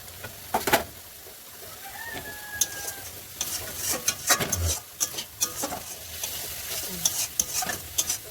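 Fish frying in oil in a pan, with scraping and clinking stirring strokes over an irregular sizzle and a faint rooster crowing somewhere in the distance.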